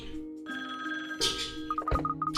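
A telephone rings with a bright, repeating electronic trill, loud and close, while faint background music plays beneath it.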